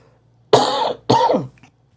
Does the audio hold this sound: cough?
yes